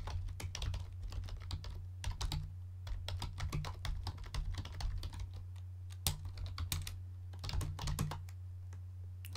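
Typing on a computer keyboard, quick irregular bursts of clicking keystrokes with brief pauses, close and clear over a steady low hum.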